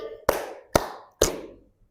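Three sharp, evenly spaced hand claps from a class clapping game, each a crisp single clap with a short decaying ring, heard alone in a quiet room.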